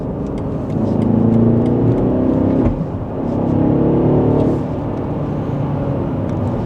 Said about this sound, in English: It's actually a lot of fun to drive this SUV.